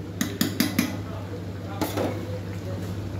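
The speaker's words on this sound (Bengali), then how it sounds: "আবার একটু ঢাকা দিলাম" A lid is set on a cooking pot on the stove, giving a quick series of metallic clinks, then another clatter, close up over a low steady background hum.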